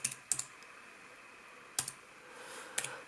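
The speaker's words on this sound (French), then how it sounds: "quand je tape sur le A, on a un Q qui est apparu" Keys tapped on a foldable Bluetooth keyboard, a few sharp clicks in small bursts with pauses between, close and fairly quiet, no talking.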